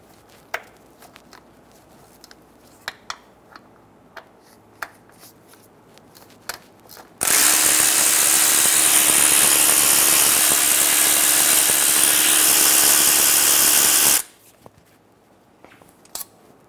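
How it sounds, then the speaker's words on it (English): Power driver with a T40 bit backing out transfer case shift motor screws on a 2014-2018 Chevrolet Silverado 1500: one loud, continuous high-pitched whir lasting about seven seconds, between quiet clicks and taps of handling. "Using a T40 bit, remove the four screws for the shift motor."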